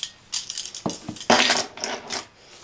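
Spoon scraping and clinking against a bowl while marjoram, black pepper and salt are mixed together, several close, bright clatters in quick uneven succession with no talking.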